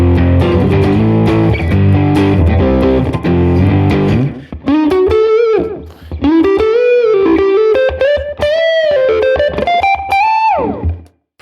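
Heavily distorted electric guitar plays chugging rock chords, then shifts to sustained, bending lead notes with a gritty crunch, loud and up close throughout.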